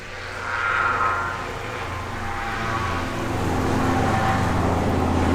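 A low engine drone of a helicopter passing overhead, swelling and holding steady with a continuous rumble, no talking.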